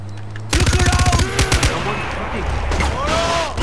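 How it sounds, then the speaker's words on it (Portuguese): Machine gun fire in the video game Far Cry 4: a rapid, loud burst of automatic shots in a tight rhythm, followed by a few scattered single shots and a rumbling game background. "Vamos com a metralhadora."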